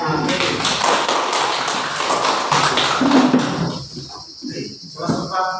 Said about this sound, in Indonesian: Mari kita tepuk tangan untuk anak.